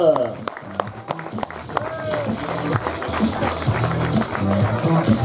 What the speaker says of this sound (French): les applaudissements du public